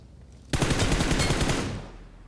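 Loud, rapid automatic gunfire in PUBG Mobile, competitive match play, breaks out suddenly after near-quiet and rattles in a steady burst for over a second before fading into a lingering tail.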